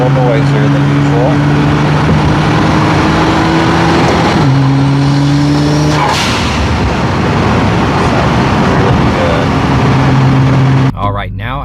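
A 2010 Nissan GT-R Premium with bolt-on modifications drives past an outside microphone, its engine a steady loud drone with a shift in pitch partway through and continuous road and wind noise, ending with a brief clatter.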